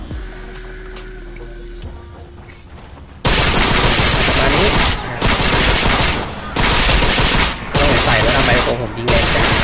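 Gunfire in the online game Vindictus bursts in loudly after a quiet opening with a low tone, then rattles on in dense rapid volleys with a few brief pauses between bursts.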